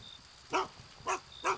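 Three short, sharp barks from a dog in the Black Gold video game, evenly spaced and moderately loud, with no talking.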